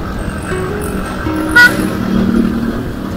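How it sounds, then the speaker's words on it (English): Heavy road traffic in Ibadan at closing hour, heard from a motorcycle crossing a bridge near Bodija: a steady rumble of engines, with one short, loud car horn honk partway through. "Yeah, the traffic is massive, man."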